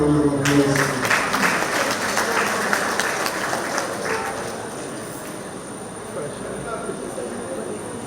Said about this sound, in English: I think we need to give them a round of applause